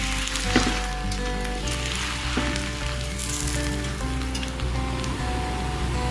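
Stuffed chicken green masala paratha sizzling steadily in a hot pan, a continuous close crackle and hiss of frying oil with occasional louder pops, no talk.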